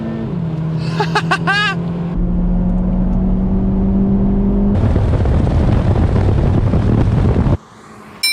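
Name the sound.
VW T-Roc R four-wheel drive launching and accelerating on track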